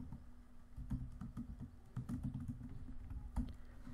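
Rapid keystrokes on a computer keyboard while code is written for an Android quiz app, with irregular clustered clicks, close and moderately loud, with no talking.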